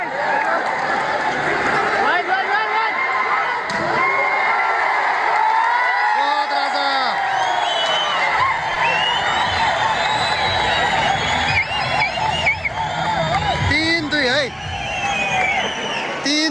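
A crowd at a volleyball final cheers, whoops and hoots continuously, a loud roaring mass of voices with rising shouts, while a commentator talks over it.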